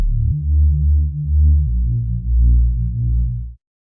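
Deep sub bass run through a Soundtoys Filter Freak six-pole low-pass filter with the cutoff set very low, giving round, muffled pulsing notes in a steady rhythmic pattern, loud and alone, stopping abruptly after a few seconds.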